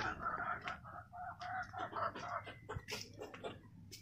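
Chickens at a village poultry seller in rural Maharashtra, with clucking and squawking bursts scattered over a busy outdoor background and a few faint voices nearby.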